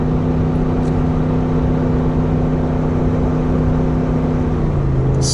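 Car engine pulling steadily in sixth gear at highway speed, a continuous loud drone with steady tonal hum and road noise, no talk.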